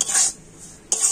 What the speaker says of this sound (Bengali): আর এখন আমি সমস্ত কিছু আরেকটু ভালোভাবে নাড়াচাড়া করে নিচ্ছি।